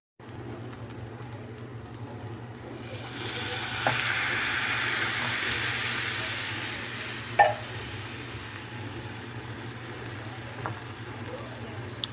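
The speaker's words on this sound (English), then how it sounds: "it's nice to get them browned up" Precooked sausages browning in a frying pan give a steady, moderate sizzle that swells after a few seconds and holds, with a couple of sharp pops and spatters near the middle and end.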